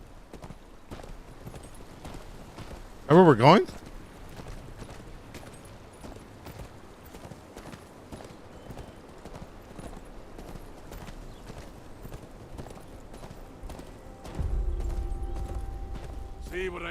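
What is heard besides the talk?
horse hooves clip-clopping in Game of Thrones video game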